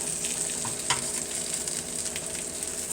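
Cheese frying directly on a hot pan for pan-fried tacos, a loud, dense, even sizzle with a single soft knock near the start and no talking.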